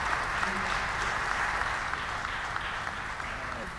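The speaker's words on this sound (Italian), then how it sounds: "Applauso Fabio Cannavaro." An audience applauds steadily at a press conference at Palazzo Paolo V in Benevento presenting Fabio Cannavaro as the new coach; the dense, continuous clapping fills the room at moderate loudness.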